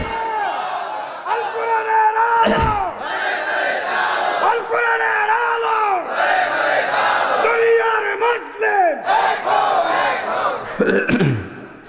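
A large crowd at a Bangla religious gathering roars takbir over and over in answer to a speaker's call. The loud, continuous shouting surges in repeated waves across the whole stretch.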